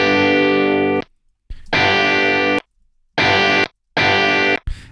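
Electric guitar played through a UAD Marshall amp plugin with light distortion, four loud sustained chords separated by brief silences, with no talking.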